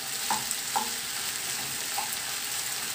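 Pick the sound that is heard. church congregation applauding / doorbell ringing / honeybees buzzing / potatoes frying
potatoes frying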